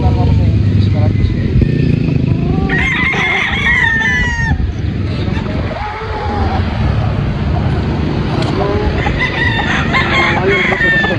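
A gamecock stag rooster crows several times in a farmyard on a Bacolod farm, sharp repeated calls over a busy background with other birds, a passing motorbike and someone talking.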